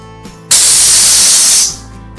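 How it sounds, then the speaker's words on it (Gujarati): A pressure cooker cooking cut mango lets off one loud, steady hissing burst of steam lasting just over a second before tapering away, close by against a quiet kitchen hum. "હવે કાપેલી કેરીને કુકરમાં નાખી 1 સીટી વાગે ત્યાં સુધી થવા દઈએ"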